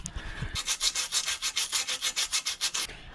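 A cookie disc grinds over the corroded surface of a Chevrolet Tahoe engine block, giving a steady train of rapid, evenly spaced rasping strokes, close and fairly loud, after a few low knocks at the start.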